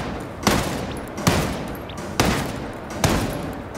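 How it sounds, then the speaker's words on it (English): Four heavy blasts boom out at roughly regular intervals during a Ghost Recon Breakpoint session, each a sharp, loud burst that decays quickly, with no voices between them. "This thing had better give me a good explosion."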